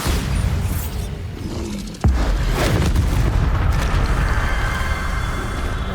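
A loud spell explosion from the Bombarda charm in the video game Hogwarts Legacy blasts apart objects with a sudden heavy boom near the two-second mark, with crackling debris and rumbling game ambience continuing afterward.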